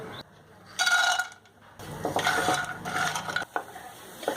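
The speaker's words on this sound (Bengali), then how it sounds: "বড়ি ভাজার জন্য আমি 2 টেবিল চামচ তেল দিয়ে নিলাম" Bori lentil dumplings fry in two tablespoons of oil in a kadai, heard as bursts of sizzling and spattering broken by short quiet gaps, with light clatter of utensils close by.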